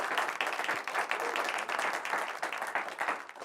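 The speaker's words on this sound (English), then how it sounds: "We can give those guys a round of applause." A studio audience on a talk show gives a round of applause, a dense and steady wash of clapping that holds for the whole stretch with small ripples and no pauses.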